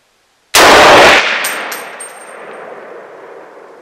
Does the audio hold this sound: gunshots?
yes